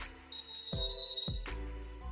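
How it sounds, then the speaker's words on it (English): A whistle blown twice on a podcast, a sustained shrill tone lasting under a second, close and clear with nothing else over it. "I see we have 2 blows of the whistle."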